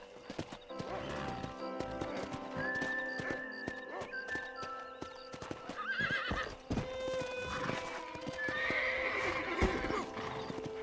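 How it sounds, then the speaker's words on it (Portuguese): A horse in Red Dead Redemption whinnies several times over a steady clip-clop of hooves, with a game soundtrack running underneath throughout. "Porra, cavalo."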